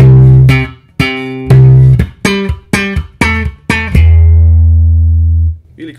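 A bass guitar plays a short funk line: a run of punchy, clipped notes with gaps between them, ending on a long sustained low note that fades out, loud and close.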